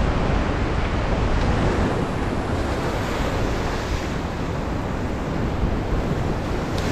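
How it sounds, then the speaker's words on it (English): Strong wind blows across a sea shore during cod fishing near Arbroath, a steady loud roar mixed with crashing surf and microphone buffeting that stays constant throughout. "that wind's picked up again"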